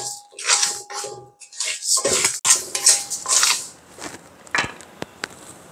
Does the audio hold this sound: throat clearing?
no